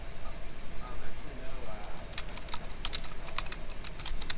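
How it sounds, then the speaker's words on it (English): Password being typed on a computer keyboard, a quick run of crisp close key clicks in an irregular burst over low room noise, following a brief stretch of quiet background. "And just type your password here."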